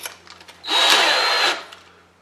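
A power drill with a wider bit whirs up for about a second on the metal base plate of a die-cast toy car, a loud grinding burst with a high whine, then stops, leaving quiet room sound.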